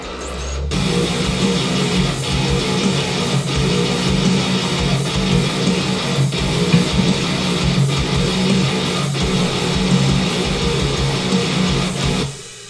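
Playback of a recorded Doom Eternal music cover: dense, loud, distorted metal with driving low end and regular heavy beats, sustained throughout before stopping abruptly.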